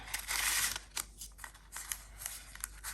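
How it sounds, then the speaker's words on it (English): Scissors snip off the top of a paper journal page in a handful of short, close cuts, with a longer rasping cut near the start; no voices. "I think what I'll do in any case is cut off the top."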